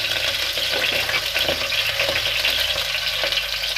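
Hot oil sizzles loudly and steadily in a pan on an Indian home stove while idli is being made, a dense close crackle with faint stirring taps under it.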